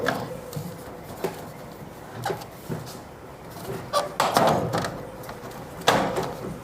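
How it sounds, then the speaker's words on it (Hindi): Plastic grille being eased off a home split air conditioner by hand, giving scattered light clicks, snaps and rattles at close range, separated by short pauses. "तो अभी हम ग्रिल पहले निकालते हैं।"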